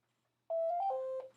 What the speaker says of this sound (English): hold on, and this is a damn phone ringing